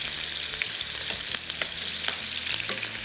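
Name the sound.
frying ingredients in a pan for fish pulao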